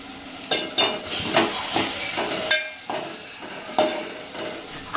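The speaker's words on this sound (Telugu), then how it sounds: "ఆనియన్స్ అయితే మంచిగా ఫ్రై అయిపోయాయి ఆనియన్స్ గోల్డెన్ బ్రౌన్ కలర్లోకి వచ్చిన తర్వాత నేను పసుపు అయితే వేసుకుంటున్నా" Onions frying in a pan as turmeric goes in for a Telangana boti curry, steady sizzle and hiss broken by regular clinks of a spoon stirring against the pan.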